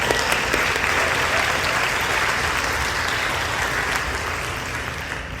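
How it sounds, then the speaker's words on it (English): An audience at a church open-door gathering gives sustained, even applause, a dense wash of many hands clapping that fades slightly toward the end. "Yes, clap for David"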